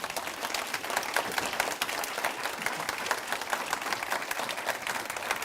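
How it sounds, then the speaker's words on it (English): Audience applauding panellists at the close of a policy discussion event on refugees and displacement, steady crowd clapping at moderate distance, fairly soft and continuous. "give our panellists a round of applause"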